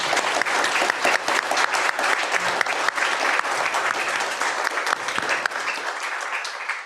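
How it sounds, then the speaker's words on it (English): Loud, sustained audience applause fills a 2025 Alan Shepard Summer Residency art vernissage. Many hands clap steadily and closely throughout, tapering slightly near the end. "Huge round of applause."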